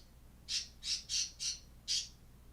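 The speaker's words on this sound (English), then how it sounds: "They're just being happy birds being happy." Pet birds letting out five sharp, shrill squawks in quick succession, the last after a short pause, close by and loud over a quiet room.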